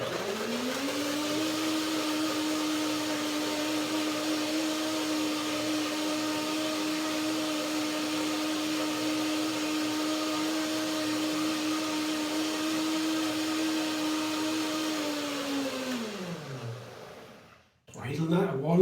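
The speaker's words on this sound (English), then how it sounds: "I put just a little bit of water in there, and I blend it" A blender whirs steadily at full speed for about sixteen seconds while blending walnuts, hemp hearts, banana and a little water into cream, then winds down to a stop and is followed by a clunk.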